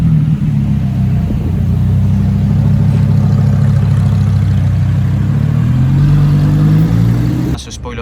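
A matte white Lamborghini Performante with a free-flowing exhaust drives past, its engine a loud, low, steady rumble for several seconds before it cuts off abruptly near the end.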